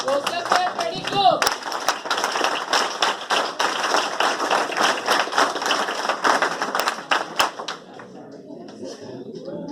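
An audience at a school science session on learning through experiments claps together on cue: dense, loud, rhythmic hand claps lasting several seconds after a brief spoken prompt, then tapering off.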